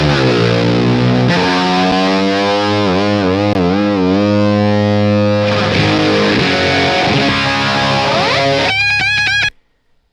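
Electric guitar, loud and distorted through a phaser, with sweeping swirling harmonics over sustained notes and chords, then a burst of rapid high tapped runs before cutting out abruptly.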